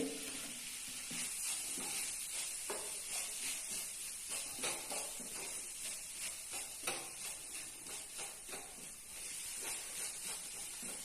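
Chopped, salted mustard greens are stir-fried in a pan, a steady close sizzle with repeated soft scraping strokes of the spatula throughout, no talk.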